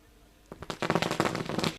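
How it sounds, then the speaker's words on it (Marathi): A string of firecrackers bursts into rapid, crackling pops at a sports tournament opening ceremony after a brief quiet start, continuing densely to the end. "फटाक्यांची आवाज आपण ऐकतात."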